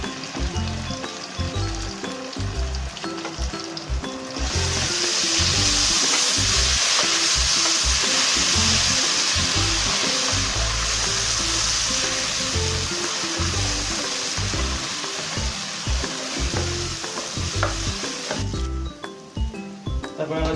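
Ginger garlic paste hits hot oil with fried onions for veg pulao, bursting into a loud steady sizzle that runs for several seconds before settling back to quieter frying with faint stirring.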